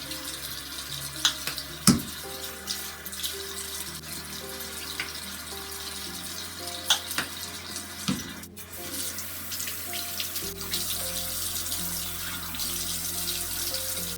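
Tap water runs steadily into a sink while someone washes their face with foaming cleanser. The flow is close and continuous, with a few sharp clicks and knocks, and no one speaks.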